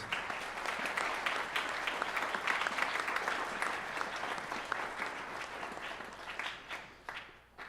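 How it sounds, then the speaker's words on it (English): An audience at a high school band event applauds steadily for several seconds, dense clapping at full volume that thins and tapers off toward the end. "how about a round of applause for our paraprofessionals?"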